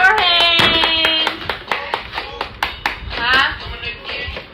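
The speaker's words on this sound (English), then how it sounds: "Clap your hands." Hands clap in a brisk burst of several sharp claps, close and loud, while children's and adults' voices talk and cheer over and around them.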